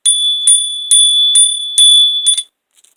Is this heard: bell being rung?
yes